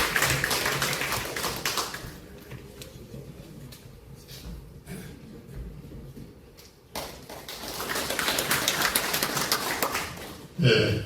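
An audience at a book launch event claps to welcome a speaker, a burst of dense applause at the start fading to scattered claps, then swelling again toward the end, moderately near.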